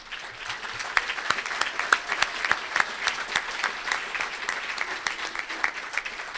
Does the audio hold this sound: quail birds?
no